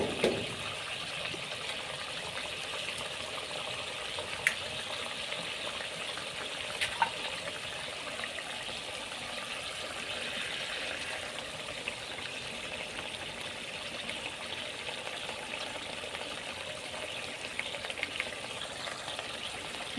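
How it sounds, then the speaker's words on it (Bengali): Eggs frying in oil for egg curry give a steady, moderate hiss with occasional small pops and clicks, constant throughout and heard alone. "আর এই যে একটি একটি করে আমি ডিম দিয়ে দিলাম।"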